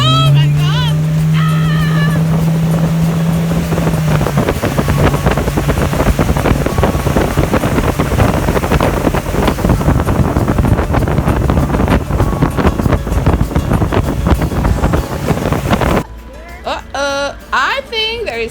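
A motorboat with an engine fault runs at speed on open water, a loud, steady engine roar with wind buffeting and water rush. Excited voices shout over it, and the engine cuts out near the end.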